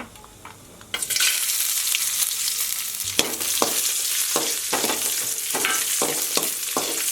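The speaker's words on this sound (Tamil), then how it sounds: "முந்திரி திராட்சை வந்து நெய்யில் விட்டு பொறிச்சு எடுத்துக்கலாம்" Cashews and raisins frying in hot ghee in a pan, first quiet, then a sudden loud sizzle that stays steady while a spoon scrapes and stirs in a series of quick strokes, close by.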